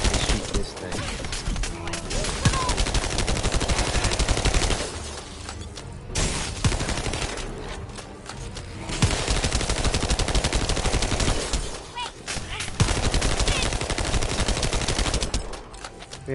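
Gunfire in the video game The First Descendant: loud, close bursts of rapid automatic shots that run almost without a break, with only brief lulls between volleys.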